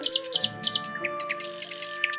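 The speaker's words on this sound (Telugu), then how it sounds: "వీళ్ళిద్దరూ కూడా ఆ పక్షి అరుపులను గమనించలేదు" A cartoon baby bird cries out with rapid high chirps and tweets, short repeated bursts near and clear over a soft background tone.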